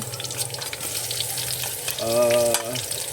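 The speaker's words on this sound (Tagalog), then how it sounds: "pag gisa-gisa na po yung bawang, golden brown" Garlic sautéing in a pan until golden brown, a steady sizzle with stirring clatter and a brief tonal ring near the end.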